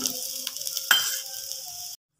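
Masala with onion roasts in a pan over low gas, giving a soft, close sizzle with a few scrapes and one sharper clink partway through, then stopping abruptly.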